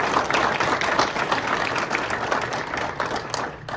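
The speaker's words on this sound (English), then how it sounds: "So please give a round of applause for that too." Audience applause at a university food pantry's fifth anniversary celebration, a dense, sustained wash of many hands clapping at close range, fading slightly toward the end.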